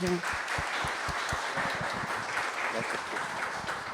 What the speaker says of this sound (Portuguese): Uma salva de palmas para o Marcelo.